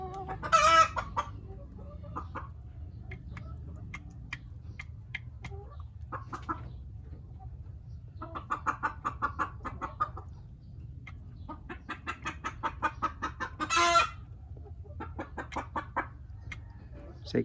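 Hens clucking in short bursts inside a breeding pen, with a rooster crowing loudly twice, all set against a low steady background hum; the calls come close and irregular, with no talking.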